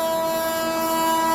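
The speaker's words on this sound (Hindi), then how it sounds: "इस टाइम यहाँ पे ओवरटेक करने के लिए आ रही है आपकी लिंगमपल्ली इंटरसिटी एक्सप्रेस" The Vijayawada–Lingampalli Intercity Express blasts a loud, sustained horn at a dim station while overtaking another train, the steady tone filling the moment with the rumble of the passing rail cars beneath.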